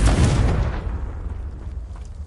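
A Confringo blasting curse explodes in a Harry Potter video game, one loud, close burst that rumbles and fades over about two seconds.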